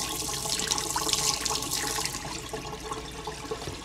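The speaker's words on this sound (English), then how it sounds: "we're going to rinse the brush really," A brush used for oil painting is rinsed under a running tap, a steady, close rush of flowing and splashing water that continues alone throughout.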